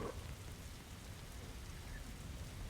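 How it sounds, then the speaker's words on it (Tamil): Rain falling in the video game Dead Rails, a faint, steady hiss of rainfall with soft low rumbling beneath, continuous and distant-sounding, with no voices. "மழை பெய்யுது."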